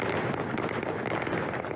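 Taliban militants fire guns at protesters in Jalalabad, Afghanistan, in a dense burst of loud cracks and bangs over rough, noisy outdoor din.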